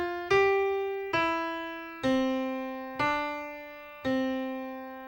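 Piano plays the last phrase of a beginner exercise melody: five slow, evenly spaced single notes, each a clean strike decaying gently, stepping downward, quiet and alone.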